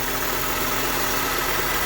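A Honda CR-V engine runs steadily after a camshaft position sensor and VVT solenoid repair, giving a constant close mechanical hum with a faint knocking vibration and no talk.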